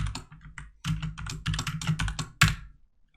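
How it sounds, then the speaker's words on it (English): Fast, uneven keystrokes on a computer keyboard while writing code, the clicks close and crisp in dense bursts with brief pauses and one sharper clack near the end. "typing a little fast here"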